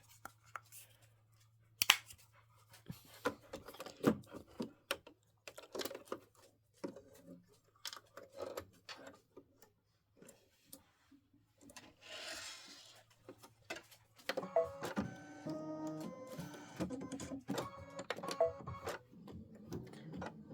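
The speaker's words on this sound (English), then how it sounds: "One minute of stitching, and then we're going to put in color 700." Embroidery machine, an Aveneer with a 6x10 hoop, stitching a Halloween tile design on fabric, giving a close mechanical ticking and clicking patter that comes and goes, busier toward the end, with soft low hum beneath.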